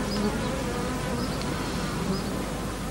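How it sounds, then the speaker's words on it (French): Honey bees drawn into a damp tray for bee sting therapy buzz in a dense, steady swarm, loud and close throughout with no pauses. "Henri Cibrario attire les abeilles dans un bac humide"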